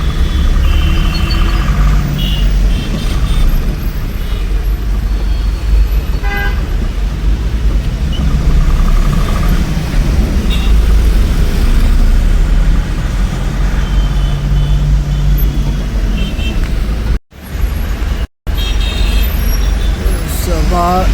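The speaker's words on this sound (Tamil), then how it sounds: "செம டிராஃபிக்ங்க." Gridlocked highway traffic on the Chennai to Hyderabad route: repeated car horns, bus and truck engines and an air-brake hiss fill a steady, loud din, while someone talks over it throughout.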